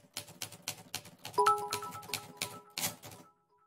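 A typewriter rattles with quick irregular keystrokes and clacks, a couple of short ringing tones mixed in, close and fairly loud for a few seconds before stopping.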